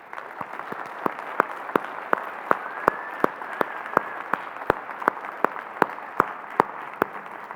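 An audience applauds panellists after an evening talk on adolescent health and developmental origins, with steady clapping from a small crowd heard fairly close and without speech.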